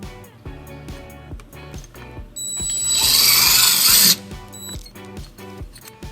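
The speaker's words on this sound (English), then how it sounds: "using a 3/16 drill bit, we're going to drill our first hole" A rhythmic mechanical clatter is joined midway by a loud, high whine of a power drill with a 3/16 bit boring into a 2009 Toyota Highlander for about a second and a half, then the clatter resumes.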